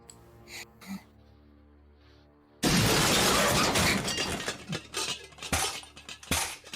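Glass smashes suddenly and loudly in a museum setting during a Vampire: The Masquerade tabletop session, a sharp burst of shattering with tinkling debris afterward, preceded by quiet soft sounds.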